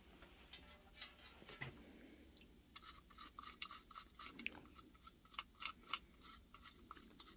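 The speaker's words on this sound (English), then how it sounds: "Let's take a little brush and see if we can't get that a little cleaner." A small brush scrubs rust off a metal surface in a steady run of short, rhythmic rasping strokes, close and fairly quiet, starting after a few soft handling noises.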